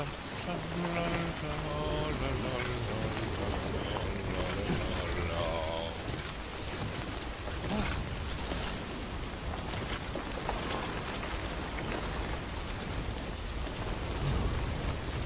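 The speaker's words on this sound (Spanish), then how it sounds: "tú fíjate el día, lluvia, viento, suelo resbaladizo en el bosque" Steady rain with wind sweeping through a forest in Death Stranding, a dense continuous wash of drops on the ground at even loudness throughout, with faint low musical tones early on.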